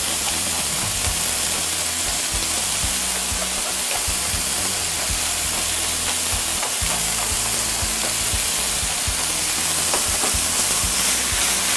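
Cornbread stuffing seasoned with kosher salt and black pepper gets stirred in a hot pan, giving a steady sizzle with continuous scraping and stirring that runs unbroken and fairly loud throughout.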